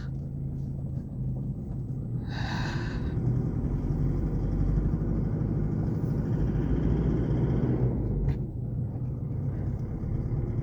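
A 2012 Isuzu KB300 LX D-Teq diesel engine drones steadily with deep road rumble while the truck drives, loud and continuous throughout, with a brief higher whine near the start.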